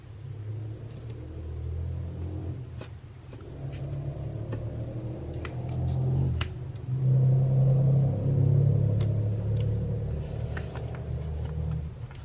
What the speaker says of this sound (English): These cars are really getting on my nerves.